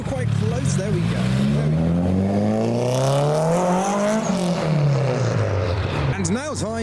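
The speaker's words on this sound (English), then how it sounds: "So here comes the Mitsubishi Evo." A Mitsubishi Evo drives past close by as JDM cars leave a car show, its engine note rising and falling in pitch as it approaches and goes by, with crowd voices and other cars underneath.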